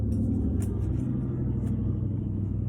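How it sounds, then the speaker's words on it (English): Cars passing on a busy street nearby, a loud continuous low rumble of road traffic that swells slightly as vehicles go by, with no talk over it. "I'm gonna take really loud cars as confirmation as well, since we're by a busy street."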